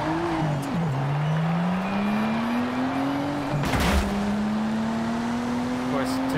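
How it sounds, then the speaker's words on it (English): A car in the Forza Horizon 5 video game drives along with a steady engine drone that climbs in pitch through the gears, a short gear-shift dip and a brief burst of noise partway through. "We're gonna drive for this car to get there though"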